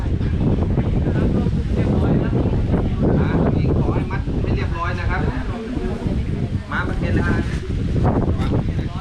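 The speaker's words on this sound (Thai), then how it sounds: "ช่วยรวบมัดผมด้วย เพราะลมแรงนะครับ" Strong wind buffets the microphone at an outdoor gathering at a Thai Buddhist temple, a steady loud rumble running throughout beneath continuous talk.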